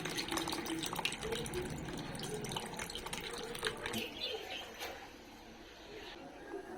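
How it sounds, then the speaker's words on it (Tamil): Tamarind extract pours into a clay pot of fish curry, a steady liquid splash and trickle lasting several seconds that eases off toward the end, heard fairly close and on its own. "இதில் புளி கரைசலை இப்போது சேர்த்துக்கலாம்."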